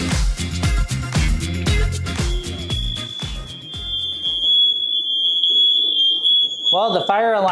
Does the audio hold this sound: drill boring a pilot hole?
no